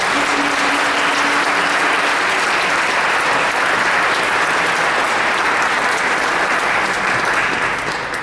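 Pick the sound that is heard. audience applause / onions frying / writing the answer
audience applause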